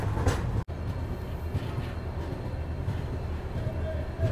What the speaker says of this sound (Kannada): ಶಿವಮೊಗ್ಗ ಇಂಟರ್ಸಿಟಿ ಈಗ ಎಂಟರ್ ಆಗೈತೆ ರೀ ಅರಸಿಕೆರೆಗೆ.